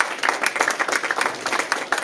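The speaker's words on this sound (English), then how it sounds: "So we want to give them a round of applause." Scattered clapping from a modest audience at the Killeen State of the City address, applauding city department heads in a brief burst of close, uneven claps.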